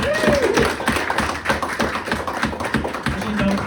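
Audience at a comedy show breaks into dense, continuous clapping, loud and close, with a voice faintly mixed in.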